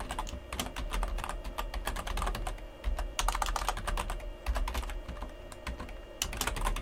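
Fast, uneven clatter of keys on a computer keyboard as someone types in a new email address, a dense run of close, crisp taps with brief pauses between bursts.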